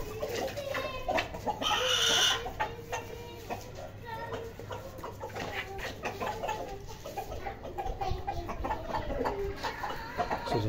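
Buff bantam chickens feeding on vegetables in a backyard colony, giving steady clucks and soft calls throughout amid scattered pecking and shuffling noises, with a brief louder call near the start.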